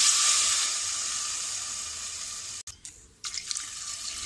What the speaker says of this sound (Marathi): आता त्यात आपण 2 ग्लास पाणी टाकूया।